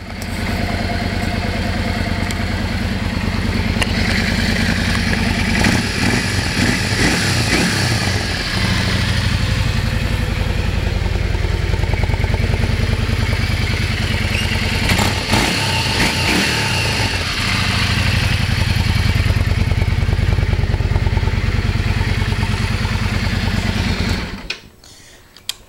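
A 2009 Yamaha V Star XVS650 motorcycle engine runs loud and steady for about 24 seconds, with brief rev-ups and mechanical clatter, then cuts off abruptly.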